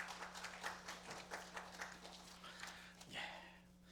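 A church congregation claps in encouragement during a Sunday morning worship service, a soft, steady patter of many hands at a distance over a low hum, swelling briefly near the end.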